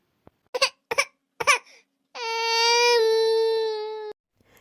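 A young child cries in short whimpering sobs, then lets out one long, sustained wail that breaks off abruptly, close and loud with no other sounds around.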